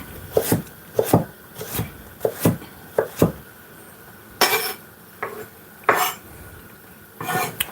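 Knife julienning vegetables, carrot among them, on a cutting board for a steak and noodle stir-fry, heard as sharp, irregular chopping taps in short clusters, close and fairly loud.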